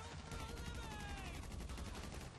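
Sustained gunfire rattles through a GTA V online prison-break heist, a dense, continuous barrage of overlapping shots that holds steady at the same volume throughout.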